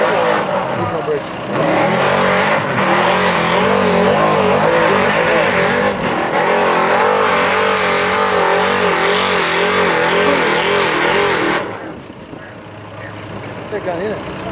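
GMC 2500 pickup truck at a truck pull, its engine roaring loud and close at sustained high revs for about ten seconds, then cutting back sharply as a voice speaks over the quieter end.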